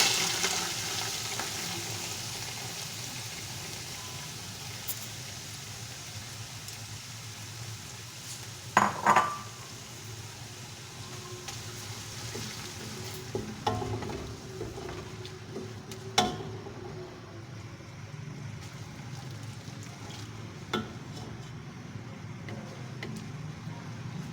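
Onions sizzle steadily in a pot for chicken pulao, a constant close frying hiss broken by occasional metallic scrapes and clinks of a spoon stirring, with no one speaking.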